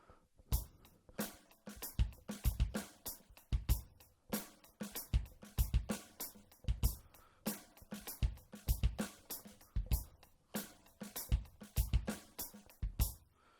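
A solo drum kit plays a repeating groove, punchy bass drum kicks alternating with sharp snare hits over a steady ticking cymbal pulse, close and clear.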